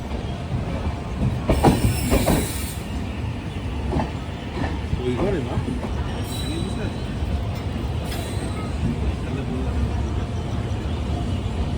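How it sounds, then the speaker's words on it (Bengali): A passenger train rolls into Malda Town station at night on the Siliguri to Kolkata route, with a steady close rumble of carriages and brief squealing wheels early on, plus faint voices in the background. "পূর্ণিমার চাঁদ আলো করে ট্রেন ঢুকছে মালদা টাউন স্টেশন"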